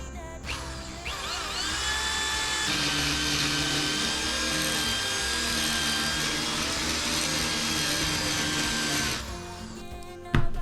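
A DeWalt hammer drill whirs steadily for several seconds, a continuous high mechanical whine with a grinding undertone, then cuts off abruptly near the end.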